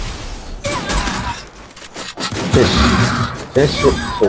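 Gunfire in a video game shooter match, bursts of rapid shots and sharp cracks scattered through the clip, mixed with players talking over it.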